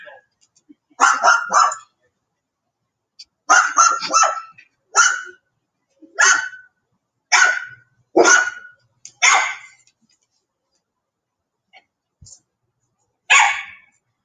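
A yellow Labrador barks in repeated bursts, loud and close, in uneven clusters with gaps of silence between volleys and a last bark after a long pause.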